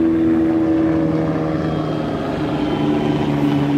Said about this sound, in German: Oder kommt ein Hubschrauber?